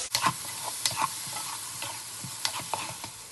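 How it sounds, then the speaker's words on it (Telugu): Fried baby potatoes are stirred into tamarind juice in a pan, giving a low simmering sizzle broken by scattered spoon scrapes and taps against the pan, with no voices. "ఇప్పుడు దీనిలో ఇందాక వేయించుకున్న ఈ బేబీ పొటాటోస్ వేసుకోవాలి। ఒకసారి మిక్స్ చేసుకోవాలండి।"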